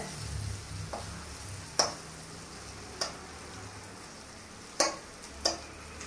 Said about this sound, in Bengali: চিকেনটাকে ভালো করে ভাজতে হবে